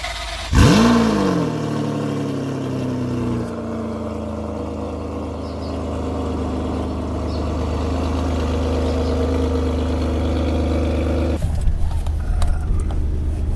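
A Ferrari 599 engine barks into a sharp rev, then settles into a loud, steady mid-pitched drone that holds for several seconds before dropping away near the end.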